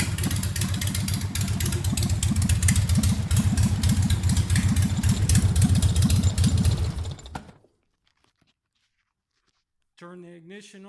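A Harley engine on a rat rod go kart idles with a rapid, loud, lumpy putter, then shuts off and winds down into silence before a voice speaks.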